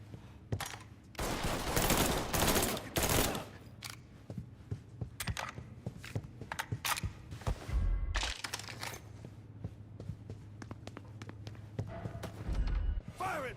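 Rapid bursts of gunfire ring out in a final-mission firefight in the game Mafia 3: Definitive Edition, dense volleys and single shots mixed with heavy thumps, loud and close, with occasional voices in between.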